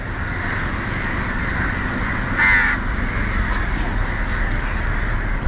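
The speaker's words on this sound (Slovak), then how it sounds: "Preto je tu toľko vrán, vždy sa im ujde nejaká zlá ryba." Crows at a fishing harbour in Sri Lanka give a loud, harsh caw from a flock, with fainter calls scattered around it over steady outdoor background noise.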